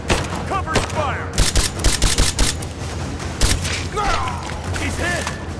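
Gunfire rattles at a Soviet copper mill installation in Rise of the Tomb Raider, with rapid bursts of automatic shots and sharp cracks mixed with shouting voices, loud and close amid a chaotic firefight.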